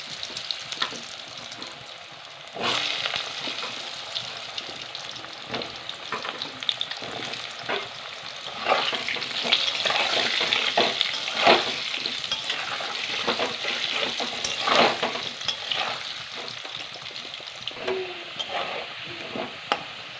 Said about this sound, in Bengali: আলুটা এবারে লাল লাল করে ভেজে নিয়েছি